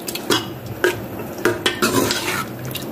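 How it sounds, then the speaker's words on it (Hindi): Chicken is stir-fried in masala in a pan, with a loud metal spatula scraping and clinking against the pan at a steady rhythm over a low sizzle. "चिकन को मसाले के अंदर अच्छी तरह भूनेंगे"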